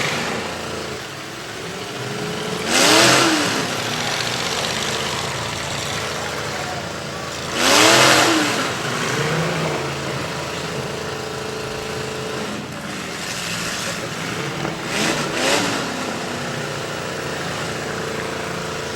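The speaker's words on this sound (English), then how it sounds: "Garrett and Baker are still running strong." Race car engines run at an event, a continuous engine drone heard from a distance with several loud pass-bys swelling and fading in turn, alone without voices.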